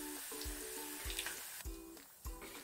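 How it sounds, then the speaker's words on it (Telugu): Ivy gourds (tindora) deep frying in oil over a medium flame, a steady close sizzle with regular bubbling bursts and occasional stirring sounds. "స్టవ్ని మీడియం ఫ్లేమ్ లో పెట్టుకొని చక్కగా ఇలా దొండకాయలన్నిటిని ఫ్రై చేయండి"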